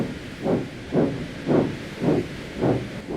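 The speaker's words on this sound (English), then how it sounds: "Feeling much better, Thomas, hissing steam" A steam engine sets off from a station, giving five even puffs of hissing steam roughly every half second, loud and clear with no voices.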